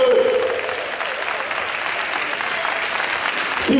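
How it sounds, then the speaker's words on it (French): Audience applause in a conference hall in Benin, a dense, steady wash of many hands clapping that carries for several seconds, with a brief voice heard at the start and again at the end. "Applaudissez pour eux."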